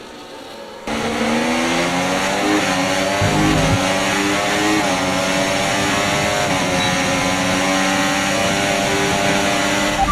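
A Formula 1 race car engine screams at sustained high revs down a straight with DRS open in an F1 driver career video game, a loud, steady whine with slight pitch shifts, starting abruptly after a brief silence.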